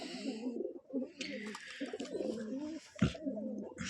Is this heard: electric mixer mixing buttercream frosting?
no